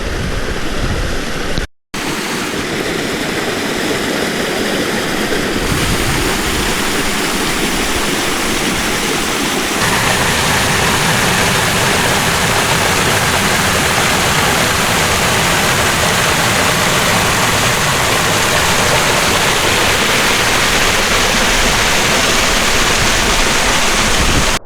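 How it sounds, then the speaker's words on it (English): Steady, loud roar of a waterfall on off-grid rural land in California, continuous broadband rushing water filling the whole stretch with a brief dropout near the start and no talking. "Got a waterfall."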